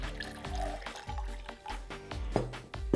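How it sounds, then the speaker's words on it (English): Lukewarm water poured into a bowl for a yeast dough in a home kitchen, a close burbling trickle with irregular drips and gurgles, moderately quiet and heard alone. "So therefore, I'm using some lukewarm water."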